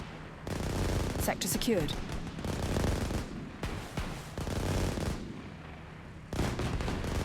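Repeated gunfire and explosive bursts from the real-time strategy war game Systemic War, loud and dense across the whole stretch, with a short voice line heard over the combat.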